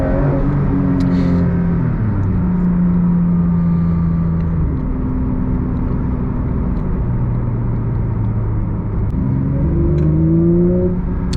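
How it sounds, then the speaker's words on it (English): A Porsche 992 GT3 Touring flat-six engine revs and accelerates through the gears, rising in pitch, dropping at each shift, loud and close inside the cabin. "Just listen to how it builds the power up and stuff."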